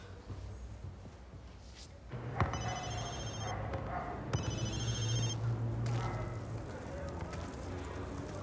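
A telephone rings in a quiet room in a 2014 BBC crime drama, its bell sounding in two clear bursts over a low background hum.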